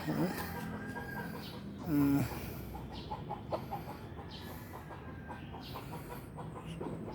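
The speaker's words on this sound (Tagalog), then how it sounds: "Ang Supremo kong manok" A rooster clucks in short bursts, with a louder burst near the middle, over steady background noise and some murmuring talk.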